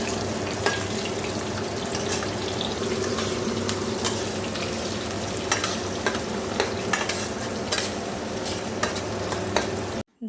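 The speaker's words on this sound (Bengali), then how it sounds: "তো চলো আগে আলুগুলো ভেজে নেবো" Potatoes coated in salt and turmeric fry in a pan with a continuous close sizzle, punctuated by sharp scraping and clattering stirring strokes, before stopping abruptly at the end.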